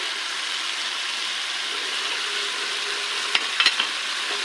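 Spices sizzling in a pan as they are stir-fried into rajma masala for a red kidney bean curry, a steady close hiss with a few brief scraping clicks near the end, no voices.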